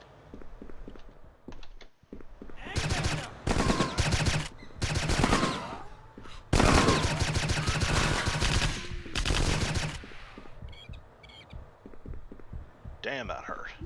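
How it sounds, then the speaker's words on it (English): Rapid bursts of gunfire from the tactical shooter Hidden & Dangerous Deluxe, loud clustered volleys and automatic strings broken by short pauses, with a voice talking at moments. "What's number 4 shooting at?"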